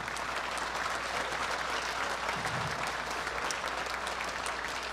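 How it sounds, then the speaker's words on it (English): An audience at a sports hall of fame event gives a round of steady, dense applause filling the room, continuous and even from start to finish. "Another round of applause for our Board of Directors."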